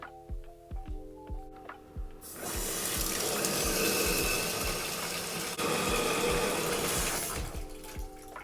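Tap water pours steadily into a container to soak a coconut coir brick, a sustained rushing stream lasting several seconds, framed by clunks and handling knocks before and after the flow.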